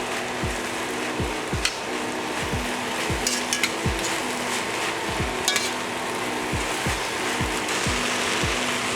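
Garlic stirred into softened vegetables sizzling in a pan, a constant loud frying hiss under a rhythmic series of scraping thumps from the stirring utensil, close up, with no talking.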